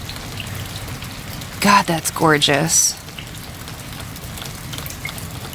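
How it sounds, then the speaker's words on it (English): Steady rain patters and hisses on surfaces throughout a gloomy day, with a person briefly speaking over it in the middle. "I hope you can hear the sound of the rain."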